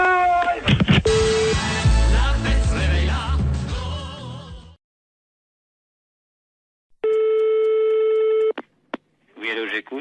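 A French telephone line rings after a number is dialed during a prank call. Loud voices and noise come first, then a few seconds of silence, then one long, clean ring tone and a short chirp.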